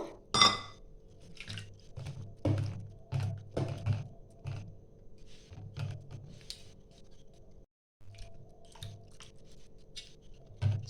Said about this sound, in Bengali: আমি একটু ঠান্ডা জল দিয়ে একটু ধুয়ে নেবো